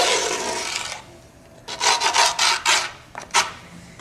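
A screwdriver scrapes along the edges of skateboard grip tape in a long rasping rub followed by several shorter gritty strokes, close and fairly loud with no talking.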